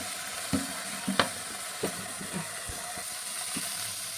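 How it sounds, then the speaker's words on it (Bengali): Soft sizzling of eggplant and potato slices frying in oil with salt and turmeric, a few clinks and stirring knocks scattered through, fairly quiet and close. "আমি নুন আর হলুদ দিয়ে একটু হালকা ভাজিয়ে নেব"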